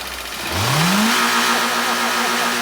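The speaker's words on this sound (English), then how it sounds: "If I was buying a used car and it made that noise, I'd just be like, oh, crap." A used car's engine revs up from idle and then holds a steady, droning rising whine, making an unhealthy noise after an additive has been poured in and the engine worked hard; close and loud, with no talking.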